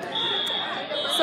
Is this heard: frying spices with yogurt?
no